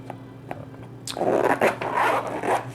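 A YKK zipper with paracord pulls being drawn open on a Maxpedition Mini organizer pouch, a few faint ticks followed by a close, rasping zip lasting under two seconds.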